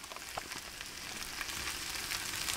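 Roast beef cooks in a pan, giving a soft, steady crackling sizzle with faint pops that grows slightly louder and continues throughout.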